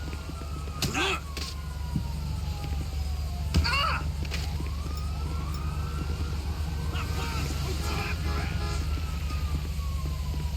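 Police siren wailing in the GTA 5 video game, sweeping up and down over a steady engine drone, with brief knocks and other game sounds and a person talking over it.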